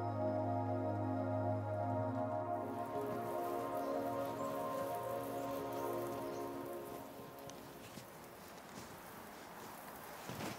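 Steady rain falls for the whole stretch as a dense, even patter on surfaces, with a sustained tonal hum underneath early on that fades partway through, leaving the softer rain alone.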